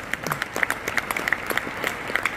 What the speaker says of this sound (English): Let's have a big round of applause for truckers